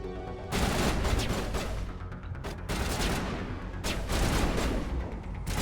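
Sustained game gunfire aimed at a Geth Trooper in Mass Effect, a dense continuous barrage of shots in loud bursts with short gaps, no talking.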